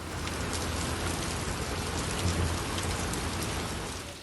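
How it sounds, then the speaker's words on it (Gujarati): Heavy monsoon rain pours down over Palanpur in Banaskantha district, North Gujarat, as a dense, steady, loud hiss of falling water with no voices. "વહેલી સવારથી સમગ્ર જિલ્લામાં વરસાદ શરૂ થઈ ગયો છે"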